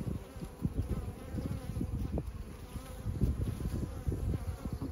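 Honeybees arriving at a hive with pollen loads, a dense close buzzing drone that swells and dips steadily throughout with no talking.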